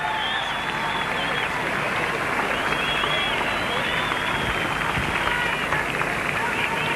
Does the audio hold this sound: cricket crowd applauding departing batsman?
yes